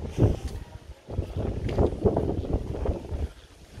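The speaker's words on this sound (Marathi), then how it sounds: "भयंकर वारं सुटलंय." Strong wind gusts outdoors batter the microphone, making low rumbling blasts that rise and fall in uneven surges, fairly loud and close, with no speech.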